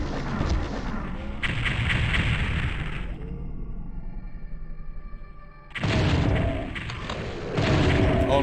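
Dual plasma cannons firing in Doom 64 EX, heavy booming game blasts in loud dense bursts, pausing briefly midway before erupting again.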